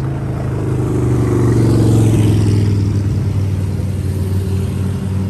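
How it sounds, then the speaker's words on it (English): Several motorcycles rumble past on a road beside a hiking trail, a steady low engine drone that swells toward the middle and then eases off, with no talking. "God, there's so many motorcycles."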